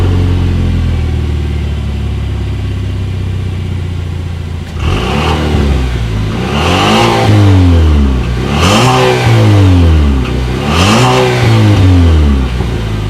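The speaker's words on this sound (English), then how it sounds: "and here is that exhaust clip" A 2020 Chevrolet Equinox SUV with a 2-liter engine starts up, then revs three times in loud, close bursts from its exhaust, each rising and falling back toward idle.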